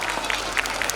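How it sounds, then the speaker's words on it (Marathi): Brief, steady round of clapping from a crowd at an abacus academy award function, dense and fairly loud with no gaps. "स्टेजवरील सगळ्या लोकांसाठी टाळ्या वाजवा."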